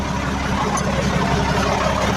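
A car engine idles steadily up close in a mechanic's shop after repair, a smooth continuous low rumble with no breaks.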